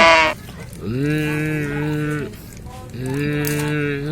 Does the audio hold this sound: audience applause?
no